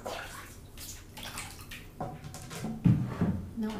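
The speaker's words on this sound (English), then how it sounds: "I want to wash my face only" Water running and splashing in a bathroom while someone washes their face at night, irregular close splashes over a continuous trickle.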